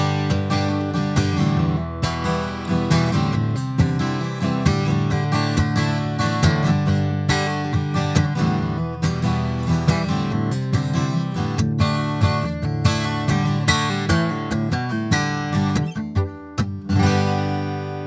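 A Taylor American Dream AD17e Blacktop acoustic-electric guitar is strummed rhythmically with percussive hits, captured up close through a Sennheiser E906 dynamic mic, full and steady throughout with no talking.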